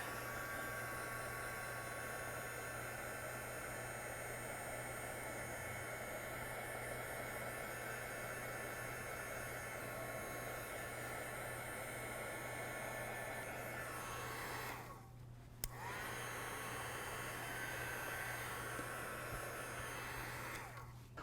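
A heat tool blows steadily to dry ink on a stamped watercolor card, a loud continuous whooshing hum close by, briefly cutting out near the end before resuming, with no talking.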